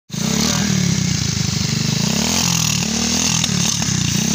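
A motorcycle engine starts abruptly and runs loud and close, a rough, pulsing putter with small throttle changes throughout.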